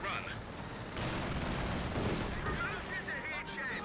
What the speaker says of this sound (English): Volksgrenadiers taking a little bit of fire.